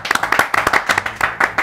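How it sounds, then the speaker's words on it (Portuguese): A few people clap rhythmically and close by during a football free-kick show, a quick, crisp run of hand claps at a lively, steady pace. "Palmas!"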